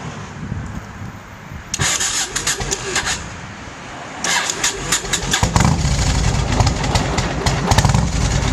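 A 2004 Yamaha Road Star 1700 motorcycle with a Long Shot exhaust cranks over and fires up, settling into a loud, deep, lumpy V-twin idle with a few throttle blips, close to the pipes.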